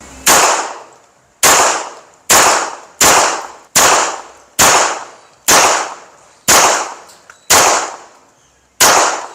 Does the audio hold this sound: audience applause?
no